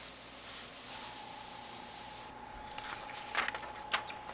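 An airbrush sprays paint onto an Iwo Jima model, a steady close hiss that cuts off partway, then a softer continuing hiss with a couple of brief louder puffs.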